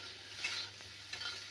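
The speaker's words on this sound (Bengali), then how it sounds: "এখন আলু ভাজা যাচ্ছে, দেখুন কত সুন্দর আলু ভাজা যাচ্ছে" Potatoes fry in hot oil in a pan, with a soft steady sizzle and a couple of brief scraping stirs, all fairly faint.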